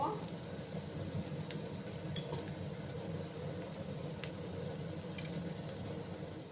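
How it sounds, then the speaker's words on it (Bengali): Ash gourd pumpkin pieces frying in a pan, a soft continuous bubbling sizzle, faint and even, with a few small crackles and quiet background noise. "আর একটু সময় নিয়ে আমি কুমড়োগুলোকে ভেজে তারপর আমি তুলে নেব"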